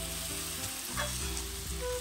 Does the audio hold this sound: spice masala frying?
yes